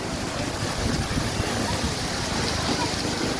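A waterfall display pours over glass at an exhibition stand, a dense, even rushing wash of water heard close and steady throughout.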